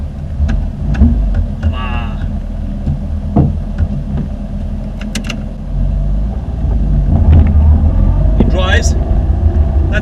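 Small Zastava 750 Fićo engine rumbles and throbs steadily from inside the car while driving, loud and low-pitched, with people talking and exclaiming over it.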